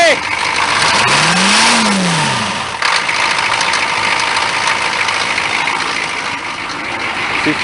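A Chevrolet K5 engine revs under applied throttle with a cold belt, the rev climbing then falling back, followed by a loud steady run with a voice talking over it.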